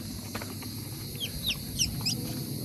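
Soft clucking of a hen with a few high, thin chick peeps chirping repeatedly near the end, amid low background rumble.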